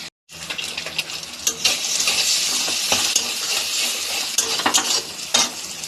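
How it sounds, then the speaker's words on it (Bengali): Potatoes fry in a pan of oil for chowmein, a steady dense sizzle with stirring scrapes and clinks running continuously throughout, close and fairly loud with no talking. "এখানে আলু ভাজা হচ্ছে"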